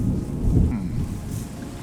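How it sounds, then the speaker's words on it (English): Rain and a low rumble of thunder in the Terra Nil video game, a loud, steady wash with a brief deeper roll near the start. "Now we have rain."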